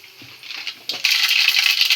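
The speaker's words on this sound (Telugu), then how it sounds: "ఆయిల్ అయితే హీట్ అయింది కదా ఆవాలు వేసుకున్నాము" Mustard seeds tumble into hot oil while making lemon pulihora, a brief patter of falling seeds followed by a sudden, close, bright sizzle and crackle that holds steady.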